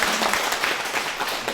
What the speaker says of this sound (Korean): 이때 박수 한번 나오면 좋을 것 같아요.